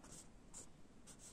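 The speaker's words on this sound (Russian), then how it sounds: "И мы пишем." A pen moves quickly across paper as a name is written fast by hand, making a few brief, faint scratching strokes close by.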